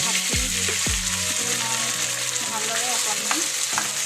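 Cooked rice is stir-fried in a pan with garlic and green chilies for Assamese kharoni bhat, giving a loud, close, continuous sizzle with a couple of quick scraping strokes near the start.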